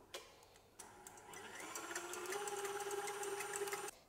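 An electric mixer whisks eggs at high speed for brownie batter, a steady whirring drone that starts abruptly, holds a constant pitch with rattling in the bowl, then cuts off.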